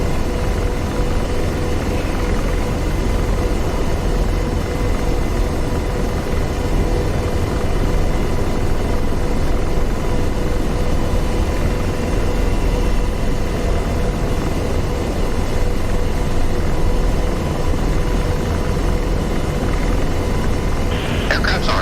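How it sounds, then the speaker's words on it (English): AH-64D Apache helicopters in DCS World flying over the Marianas Islands, a loud, unbroken rotor and turbine drone filling the whole stretch with steady intensity and no clear change in distance. "Those must be the other two Apaches that came back as well"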